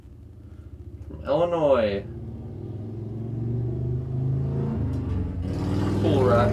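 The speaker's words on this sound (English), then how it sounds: "a motorcycle's got to drive by right when I'm trying to record this" A motorcycle drives past outdoors and its engine rumble builds and rises over the clip, while someone talks over it.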